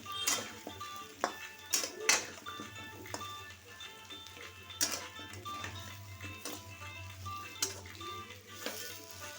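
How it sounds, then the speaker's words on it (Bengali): Diced pumpkin stirred in a pan for an egg dish, with a spoon clinking and scraping against the metal in irregular bursts over a low steady hum. "কুমড়োটা দিয়ে ভালোভাবে আমি নাড়াচাড়া করব"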